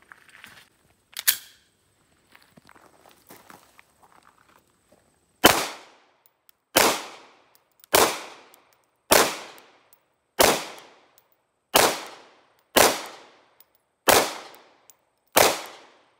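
A Sig Sauer P320 9mm pistol fires one early shot, then nine more loud, sharp, closely miked shots at an outdoor range, spaced evenly at a slow, deliberate pace of roughly one per second.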